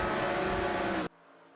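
A Nissan 370Z Nismo GT4 and an Aston Martin Vantage GT4 race in a video game, a loud, dense engine roar with whining harmonics that cuts off abruptly after about a second, leaving a faint hum.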